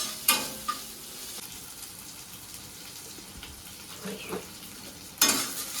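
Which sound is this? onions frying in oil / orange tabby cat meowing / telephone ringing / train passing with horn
onions frying in oil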